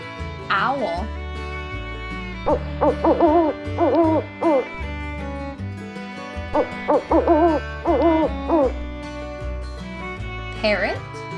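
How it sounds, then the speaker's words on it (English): An owl hoots in a series of repeated calls over a steady musical backing, loud and close, with short pauses between the hoot phrases. "Owl."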